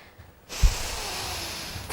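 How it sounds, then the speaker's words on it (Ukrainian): A single long, forceful breath pushed out through the nose or mouth, close and breathy, starting abruptly after a quiet moment. "І ми видихаємо,"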